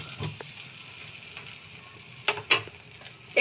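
A pizza base, made with chow mein, fries in a covered pan over a gas flame, giving a soft, steady sizzle with a few sharper clicks and knocks toward the end.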